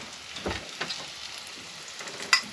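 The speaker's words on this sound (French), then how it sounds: "Là, t'as fait revenir tes petits oignons." Small onions sizzle softly in a pan aboard a sailboat, a faint steady crackle broken by a few scraping spoon stirs and a sharp clink near the end, with no voices.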